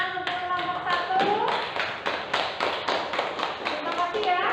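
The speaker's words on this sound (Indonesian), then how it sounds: "kita beri tepuk tangan untuk kelompok 1" A classroom of students claps for a presenting group, a dense run of overlapping hand claps and taps at a steady level for several seconds.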